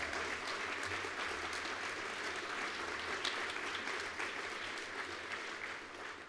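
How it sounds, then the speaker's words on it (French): An audience at a forum against surrogacy applauds their movement's president, sustained even clapping that carries on at a distant, faint level. "Oui, vous pouvez l'applaudir."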